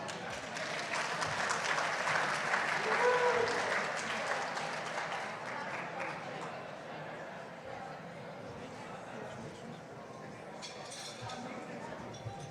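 An audience at an annual awards gala applauds warmly, a dense, sustained clapping that swells then gradually tapers off, with faint clinks of glassware and scattered crowd voices underneath.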